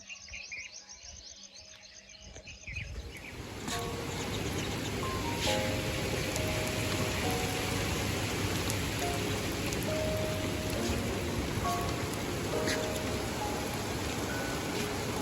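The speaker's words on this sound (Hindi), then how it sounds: "हमारे आने के साथ में आई है बारिश" Steady rain pours down evenly, a dense hiss that swells after a quieter start, with birds chirping faintly through it.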